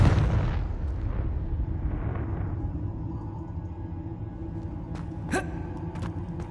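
A Confringo fire spell bursting in Hogwarts Legacy: a heavy explosive boom that rumbles and fades over several seconds, followed by a couple of sharp magical zaps, with no talk.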